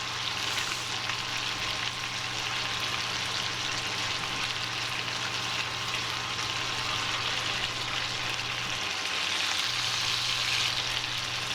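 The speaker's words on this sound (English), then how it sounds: "You want to be frying this skin side down for about 5 minutes initially" Chicken pieces frying skin side down in the base of a Moroccan tagine, giving a steady, even sizzle and crackle that holds for the whole stretch at close range with no talking.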